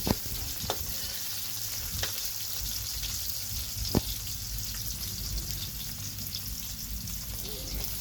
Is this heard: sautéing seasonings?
yes